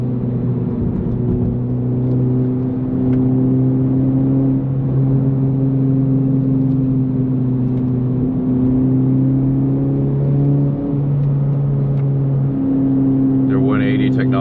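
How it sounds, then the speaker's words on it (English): Honda Civic FL5 with an AWE Touring exhaust and PRL stage 1 intake drones steadily from inside the cabin, the engine note rising and shifting in pitch across gear changes, with a voice speaking over it. "I can still hear the turbo sounds from the engine with my PRL stage 1 intake. So that's nice, and I can hear the roar of the exhaust."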